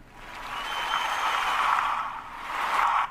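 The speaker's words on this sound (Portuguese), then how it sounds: "Eu tenho uma funcionalidade de efeitos, em que eu posso colocar pessoas aplaudindo" Canned crowd applause played as a sound effect in the Spreaker podcast tool, a dense wash of many hands clapping that swells and dips slightly before rising again at the end, with no one talking.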